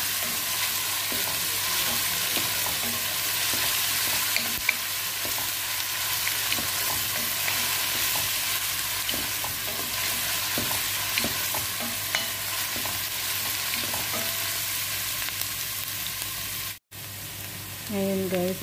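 Onions sizzling steadily in a hot pan while being stirred, with a constant frying hiss and repeated scraping and clinking from the stirring; a short break near the end, then the sizzle resumes.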